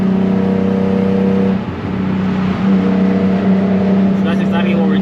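A built, turbocharged Nissan 350Z engine drones steadily at low-mid revs from inside the car, with a strong constant hum, a brief dip partway through, then resuming under a voice speaking over it.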